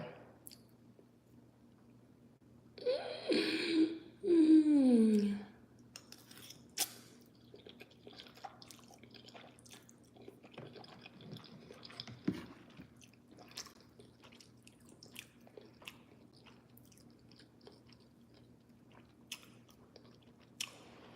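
Someone eats spicy ramen noodles in broth with red cayenne pepper, a burst of loud slurping near the start followed by quieter wet chewing, squishing and occasional clinks against a quiet background.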